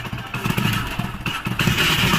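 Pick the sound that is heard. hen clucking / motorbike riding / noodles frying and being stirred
motorbike riding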